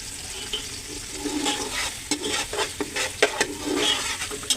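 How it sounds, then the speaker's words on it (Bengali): Onions stirred and frying in a pan for a beef curry, with a continuous sizzle and repeated scraping strokes of a spoon, close and moderately loud, no talking. "পেঁয়াজ দিয়ে একটু নাড়তে থাকবো।"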